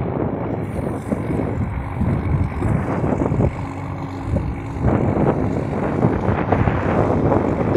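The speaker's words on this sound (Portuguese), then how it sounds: "Aí eu vou mostrar para vocês aqui o trator pulverizando." Tractor spraying a crop field, a steady rumbling engine drone mixed with gusty wind buffeting the microphone, continuous and fairly loud throughout with no talk.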